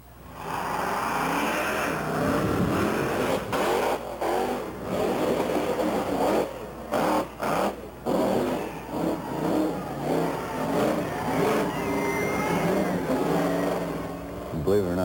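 Bigfoot 48 monster truck engine revs loudly and roars continuously as it crushes cars, with brief drops between bursts and voices talking over the noise.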